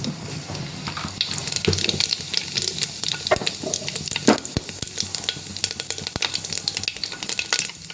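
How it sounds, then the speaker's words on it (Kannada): Cumin and mustard seeds crackle and sizzle in hot oil in a home kitchen, a busy spattering of sharp pops over a steady frying hiss, close and moderately loud. "ಎಣ್ಣೆ ಕಾಯ್ದಾದ್ಮೇಲೆ ಜೀರಿಗೆ ಸಾಸಿವೆ ಹಾಕೋಬೇಕು. ಹಿಂಗೆ ಚಟಪಟ ಅನ್ಬೇಕು."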